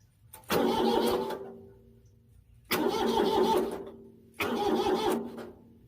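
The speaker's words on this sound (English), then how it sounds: "That fan should be turning when I crank this motor over here" Kubota engine cranked over three times, each a loud, close burst of starter grinding and churning lasting under a second, separated by short quiet gaps, with no voices.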